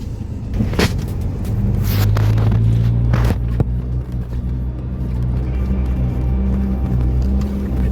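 A 4WD with tyres let down to 20 psi drives along a sandy track toward the coast in Western Australia's south, making a steady low engine and tyre rumble with a few bumps and knocks.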